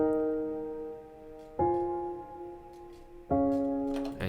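Future bass style synth chords, each with its third raised an octave, play as three sustained chords in turn, each entering with a sharp attack and slowly decaying, clean and alone with no voices.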